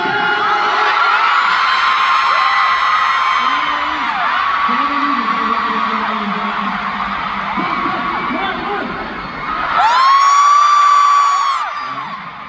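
A fan concert audience in Manila cheers and screams in high, sustained whoops, with amplified voices talking over the crowd and a final loud burst of shrieking near the end.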